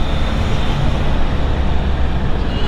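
Triumph Trident 660 motorcycle riding with a quick shifter, a loud continuous engine and road roar across the whole stretch, with no distinct break between gears.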